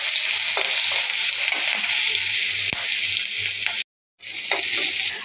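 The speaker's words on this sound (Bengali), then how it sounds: "মাছ ভাজার তেলের ভিতরে আমি এখন পেঁয়াজটাকে দিয়ে দেবো।" Onion dropped into the oil left from frying fish sizzles steadily and close up, with faint stirring clicks, a short silent gap, then the frying resumes.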